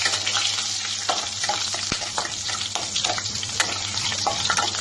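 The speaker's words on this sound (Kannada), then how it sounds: "ಜೀರಿಗೆ, ಸಾಸಿವೆ, ಹಸಿಮೆಣಸಿನಕಾಯಿ ಸ್ವಲ್ಪ ರೋಸ್ಟ್ ಆಗಲಿ" Cumin, mustard seeds and green chillies roast in hot oil with a loud, dense sizzle and crackle, stirred now and then, and nobody speaks.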